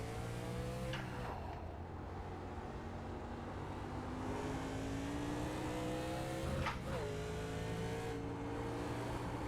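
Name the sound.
1987 Chevrolet Monte Carlo race car engine, NASCAR video game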